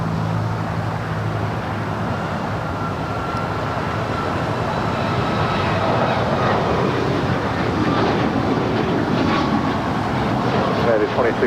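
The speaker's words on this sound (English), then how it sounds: "United 1718, RNAV Docker, runway 25 right, clear for takeoff." A United airliner on its takeoff roll from runway 25 right at Los Angeles International Airport, a broad, steady jet roar that builds gradually over several seconds from a moderate distance.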